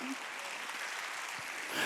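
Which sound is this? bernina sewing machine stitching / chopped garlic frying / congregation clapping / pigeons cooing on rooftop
congregation clapping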